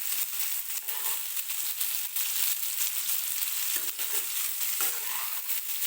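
Ridge gourd fries in hot oil with a constant close sizzle, broken by scraping stirs and soft clacks of a spoon against the pan.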